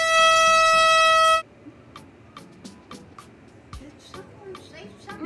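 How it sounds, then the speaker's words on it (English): Air horn blast from a prank, loud and sustained for over a second, then cut off abruptly, followed by quieter clicking and talk. "Air horn prank."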